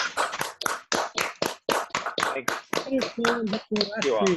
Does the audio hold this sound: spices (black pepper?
no